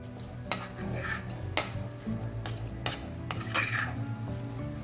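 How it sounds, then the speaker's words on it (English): A metal spoon stirs masala and fried onions in a thin kadai over a very low flame, with sharp scraping clinks against the pan at irregular intervals and a faint sizzle underneath. "Now mix this masala well with the fried onions and cook for another 1 to 2 minutes on very low flame"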